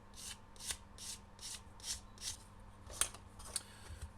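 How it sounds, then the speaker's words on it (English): A sanding stick rasps quickly across the plastic hull of a 1/200 Trumpeter HMS Hood model kit in about nine short, rhythmic, faint swipes, heard up close. "we'll just get rid of that with a few swipes of the sanding stick"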